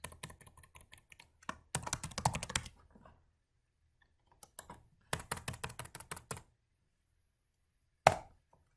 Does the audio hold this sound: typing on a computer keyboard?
yes